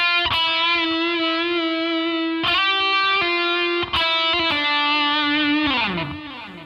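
A distorted electric guitar plays a short lick of sustained, buzzing notes with sharp picked attacks, ending in a quick descending run.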